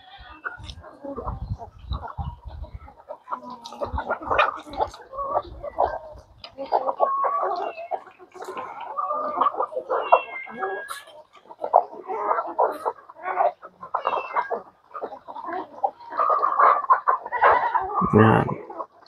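Several chickens cluck and chatter near and far in busy, uneven bursts, with a louder squawk toward the end.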